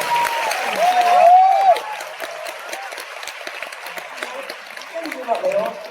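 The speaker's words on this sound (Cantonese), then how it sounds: "我哋再一次俾佢哋大嘅掌聲啊" A theatre crowd at a curtain call in the East Kowloon Cultural Centre in Hong Kong claps in a steady wash, swelling early then settling, while a voice speaks over the applause.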